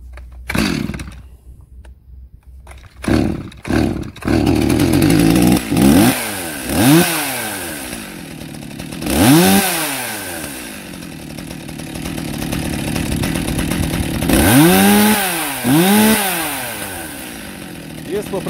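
Stihl MS 280 chainsaw started with a few pulls, then revved repeatedly in sharp rising and falling bursts between a buzzing idle, loud and close, with a steadier high-rpm run in the middle.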